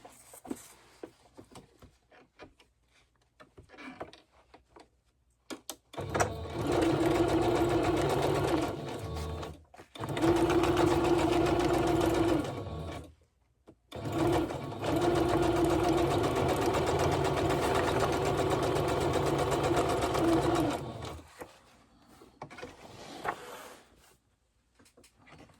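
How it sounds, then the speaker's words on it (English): A sewing machine set to zigzag stitches paper pages in loud, steady runs of whirring mechanical chatter, broken by short pauses between bursts, with faint handling sounds before and after. "I'll just set my sewing machine to"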